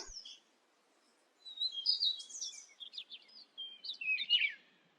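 Cartoon bird chirping in short, bright bursts of tweets, clear and moderately loud against near silence, with a brief pause before a lively run of calls.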